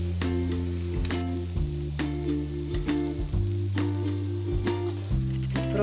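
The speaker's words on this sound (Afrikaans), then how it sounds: "braai jou eie en jou soetrussies saam tot dit sag is." Onions and baby peas fry in butter and oil in a pan, giving a steady close sizzle throughout with faint stirring and a tonal musical bed underneath.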